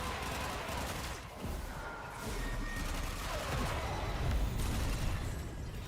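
Dense bursts of automatic gunfire in the Warframe game, shots popping and booming in a steady rapid barrage over a loud, continuous clatter of combat with no pauses.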